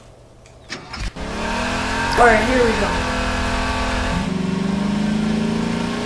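A car engine in the Garry's Mod video game starts with a couple of thumps, then revs and holds a steady droning pitch, loud and close, while a person talks over it.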